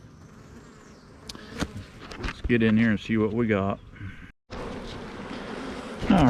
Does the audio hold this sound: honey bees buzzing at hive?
yes